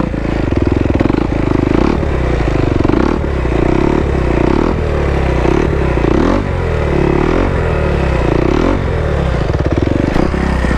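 A motorcycle revs loudly and continuously while doing circle wheelies, its engine surging and dipping in repeated cycles, close and dominant with some clatter.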